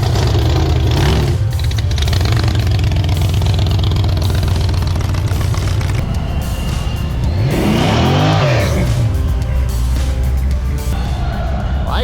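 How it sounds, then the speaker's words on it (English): Car engines rev and roar nearby at an outdoor truck show with classic cars and big dually pickups cruising past, one loud pass building and fading mid-way, with steady crowd and engine rumble throughout. "I hear people revving up for me."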